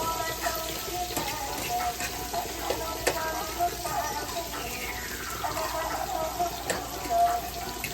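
Seasoning fries in a pan, making a low, steady sizzle with scattered clinks and scrapes of stirring. It sits at moderate distance under faint room noise, with no clear talk.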